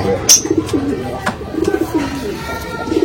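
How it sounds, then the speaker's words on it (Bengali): Low, soft coos of a male Rampuri pigeon repeat in a gentle rolling rhythm, close by, with a brief chirp and faint background noise. "এটা নর পায়রা"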